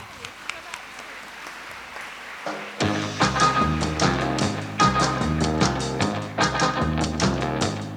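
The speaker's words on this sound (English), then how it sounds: "Please give a big round of applause." An audience greets two speakers at a university open house with a quiet patter that swells into a loud, dense round of clapping after a short pause, carrying on to the end.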